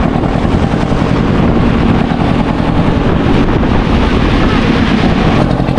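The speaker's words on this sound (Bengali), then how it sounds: "হাওয়ার এত তেজ আমাদের নৌকো ঘাটে ঠিকঠাক ভিড়তে পারলো না" Strong wind roars across a river boat in the Sundarbans during a sudden storm with heavy rain, a loud, continuous rumbling buffet against the microphone that drowns out everything else.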